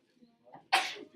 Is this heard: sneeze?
yes